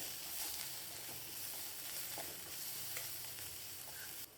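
Onions softening in a pan for a tapioca poriyal with a green chilli, giving a steady low sizzle with faint scraping stirs throughout, fairly quiet and with no talking.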